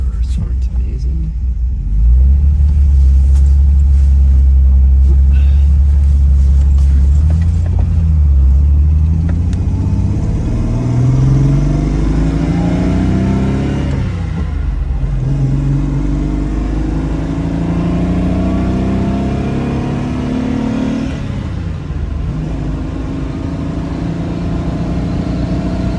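1964 Lancia Flaminia 2.8 3C convertible pulling hard from first to fourth gear, the engine note rising through each gear with a dip at every shift, loud and close from inside the car, with a voice in places.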